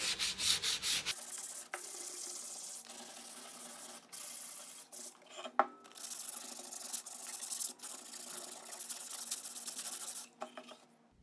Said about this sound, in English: So with your sandpaper, just give your whole board a really good rub.